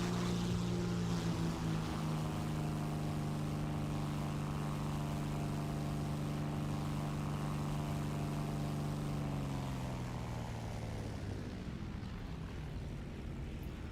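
Twin piston engines of a Ta 154 or He 219 heavy fighter in War Thunder, a loud steady droning hum with layered harmonics that holds for several seconds, then dips slightly in pitch and fades near the end.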